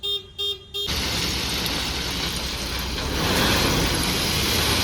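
A truck pulls into a house construction site, giving a few short horn toots before its engine settles into a loud, steady rumble that grows slightly toward the end.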